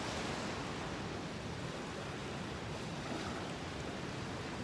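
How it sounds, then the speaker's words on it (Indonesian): Surf washes steadily onto a quiet, secluded beach as a continuous, even hiss of waves, fairly soft and without distinct individual crashes, with no voices present. "ini pantainya bagus banget"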